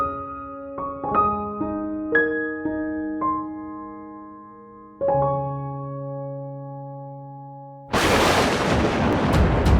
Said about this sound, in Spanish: Rayos y truenos, noche y tormenta